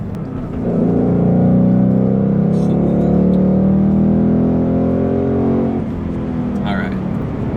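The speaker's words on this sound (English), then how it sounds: "the Mustang is quick, very quick, and ooh, man, I love the rev matching" Ford Mustang GT with the Performance Package 2 revs hard under acceleration, a loud sustained engine roar with rising and falling harmonics over about five seconds, then easing off.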